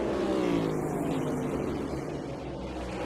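NASCAR Cup Series race cars at Richmond roaring through the final turn of the last lap, a dense, sustained engine drone with broad crowd-and-track noise, steady and loud with a slight fade.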